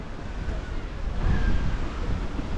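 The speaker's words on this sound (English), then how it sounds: "It is a little bit windy." Wind in an Ibiza town centre in October buffets the microphone, a close, low rumbling rush that swells midway through the short stretch.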